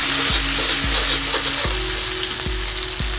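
Ginger and garlic gravy frying in a pan for Korean fried chicken gives a loud, steady sizzle, broken by a few soft knocks of stirring, with no talk.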